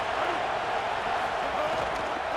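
A stadium crowd in a college football video game roars steadily on a third-down defensive stand, a dense, constant wash of cheering noise at moderate level.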